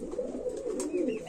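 Satin pigeons coo softly with a low, rolling murmur at close range, a short continuous burble with no talking.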